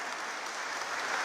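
Steady applause from a church congregation at Palm Sunday Mass, clapping for parishioners' birthdays; a dense, even wash of hand claps heard at a moderate distance, continuous through the short span.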